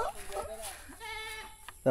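A goat bleats several times, wavering cries with a nasal, harmonic tone, close by, with brief human voices around it.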